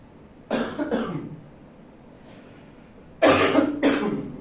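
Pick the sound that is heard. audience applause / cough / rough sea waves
cough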